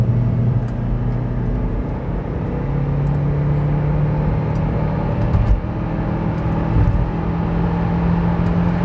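Audi A6 1.8T turbo with a Multitronic gearbox accelerating hard, a loud steady engine drone and rumble heard from inside the car, with no gear-change breaks.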